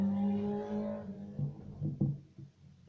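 A motorbike engine roars past and fades, followed by a few fainter revving motorbikes passing at a distance, with no speech.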